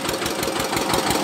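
An Eicher tractor's diesel engine runs steadily close by, a loud rhythmic knocking chug with no talking over it.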